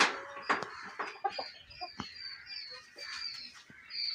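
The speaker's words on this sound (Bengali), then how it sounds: "আর এখানে আছে টাইগার মুরগি" Tiger chickens in a poultry shed give soft, scattered clucks and short chirpy calls at irregular intervals. The sounds are faint to moderate and come from close by in a quiet space, with no talking.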